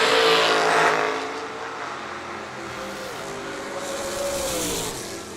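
A Camaro drag racing car accelerating down the strip at a drag race final, a loud engine roar that surges at the start, then holds a sustained rising drone as it pulls away, with no talking.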